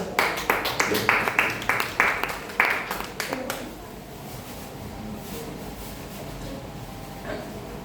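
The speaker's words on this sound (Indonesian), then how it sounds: "Tepuk tangan." A classroom group claps in a quick, fairly rhythmic burst of loud, close handclaps lasting about three and a half seconds, then the room falls quiet with faint background noise.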